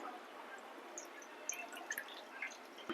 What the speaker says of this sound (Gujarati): હવે જે આપણે આ તીખું પાણી છે તેને ગાળી લેશું